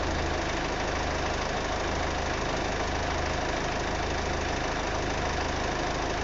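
Mitsubishi L200 DI-D diesel engine idling just after an oil service, a steady, even clatter close by with no voices over it.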